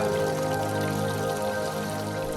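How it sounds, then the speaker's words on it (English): Steady rain falls at a moss-covered Shinto shrine near Mount Fuji, a dense continuous hiss close by with no voices. "The rain did add to the atmosphere"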